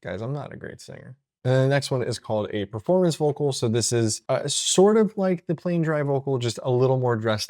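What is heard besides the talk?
None of the usual background noises is heard.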